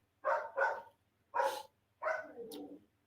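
A dog barking nearby in a quiet room, four loud distinct barks in two quick pairs, the last drawn out into a whining tail, with no one talking.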